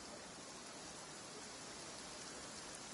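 Steady video-game rain hisses evenly throughout, a dense, soft, continuous wash with no voices.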